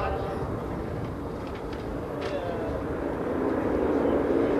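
Yak 50 aerobatic propeller aircraft drone overhead at an air show in a continuous broad roar that swells slightly toward the end, heard over crowd and commentary noise.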